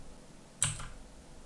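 A single sharp keystroke as the delete key is pressed on a computer keyboard, one close, crisp click in an otherwise quiet room.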